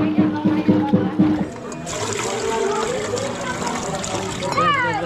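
Water pours steadily into a vessel during a neighbourhood Sheetala puja, a continuous close rushing trickle that follows a few seconds of lively talk.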